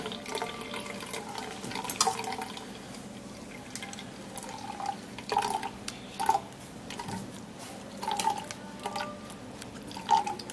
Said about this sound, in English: So we're gonna be getting a strainer to get the juice out of this.